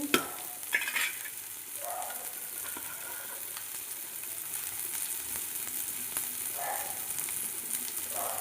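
Onions fry steadily in a pan until they brown, a soft continuous sizzle with a few brief stirring scrapes near the start, faint and even throughout with no talk.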